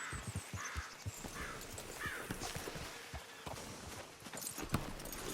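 Horses' hooves clop steadily on a dirt road in Red Dead Redemption 2, a western video game, a continuous uneven beat of soft thuds under a wash of outdoor ambience, fairly quiet, with no talk.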